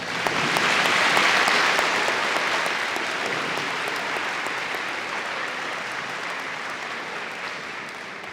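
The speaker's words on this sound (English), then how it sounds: "Let's give them a round of applause." Audience applause fills a school assembly hall at a high school Veterans Day program, a dense sustained clapping that swells early, then slowly thins while continuing steadily to the end.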